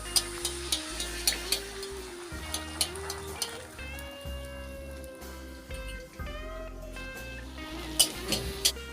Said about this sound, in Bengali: এবার এগুলিকে একে একে ভেজে নেব।